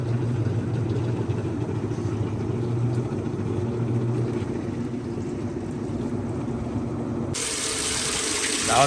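Water rushing steadily into a washing machine drum as it fills on the rinse cycle, a continuous close hiss and low churning throughout, ending in a brighter, harsher splash of water near the end.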